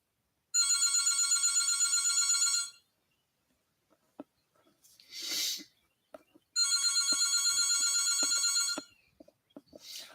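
A phone rings in two long bursts of fast, bright trilling bell tones, loud and close, with quiet shuffling and handling noises between the rings.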